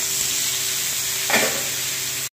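Boiled potatoes dropped into a pan of whole spices frying in hot oil, including cloves, cinnamon and cardamom, under a loud steady sizzle, with a brief stirring scrape partway through and no talk.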